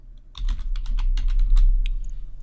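Fingers typing on a computer keyboard in quick, uneven bursts of close, crisp key clicks, with no one speaking.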